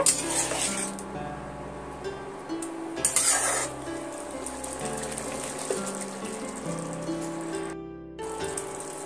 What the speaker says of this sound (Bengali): দিয়ে আমি এইভাবে ডিমের সঙ্গে মাখিয়ে নেব